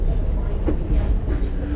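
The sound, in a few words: heritage steam train of the Strasburg Railroad running on track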